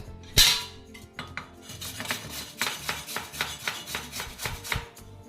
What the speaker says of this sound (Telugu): ఇప్పుడు అదే స్పీడ్లో తురిమేసుకుందాం